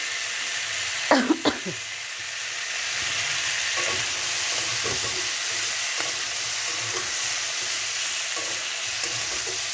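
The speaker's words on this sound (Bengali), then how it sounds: "এবার এটাকে ভাজবো।" Vegetables with chopped onion sizzle steadily in a pan, a hiss that runs throughout, while a few sharp scrapes and clinks of a spatula stirring land early and then sparsely; a faint cough-like sound appears once.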